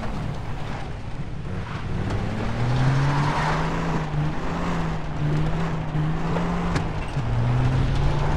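A car driven in the game Far Cry 3, its engine droning steadily and rising and falling in pitch as it revs, with road and wind rumble underneath and no talking.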